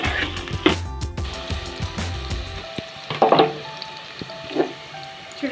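Small diced potato pieces fry in hot oil in a pan, a steady close sizzle with a few sharper clatters and stirring scrapes partway through, no voices.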